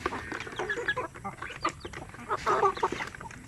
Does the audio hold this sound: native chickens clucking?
yes